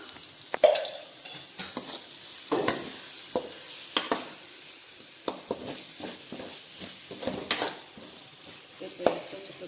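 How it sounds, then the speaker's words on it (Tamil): Onion-and-spice masala for a chicken curry sizzles in a pan with black pepper and turmeric, stirred by a spoon that scrapes and taps the pan in repeated strokes over a steady, close frying hiss. "அதோட பெப்பரையும் கொஞ்சம் சேர்த்துக்கலாம் சேர்த்து எல்லாத்தையும் சேர்த்து நல்லா வதங்க விட்டுக்கலாம்"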